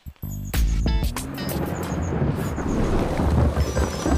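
Heavy thunder rumbles and crashes over steady rainfall in a jungle, a film sound effect; a sharp crack opens, then a loud continuous roar of rain with rolling thunder underneath.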